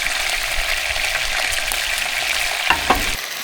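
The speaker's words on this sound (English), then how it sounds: "Again, you're trying to get a good sear on there before you slow cook it." An elk shoulder roast sears in a hot pan before braising, giving a steady, loud sizzle and crackle throughout with a few sharper pops near the end.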